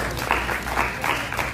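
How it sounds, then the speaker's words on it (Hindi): Audience applause for stage performers after a drama production, a steady dense wash of clapping with faint voices mixed in. "तो तालियां बजती रहनी चाहिए इनके लिए।"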